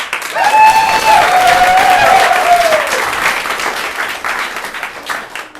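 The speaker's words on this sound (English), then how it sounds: "Let's clap them in." A comedy show audience bursts into loud sustained applause with some cheering and whooping, gradually thinning out toward the end.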